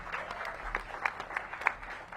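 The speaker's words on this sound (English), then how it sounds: "okay, you can clap" Scattered, fairly faint applause from a crowd at the grand opening of a Washington music venue, a few distinct claps standing out over a thin background during a short pause in speech.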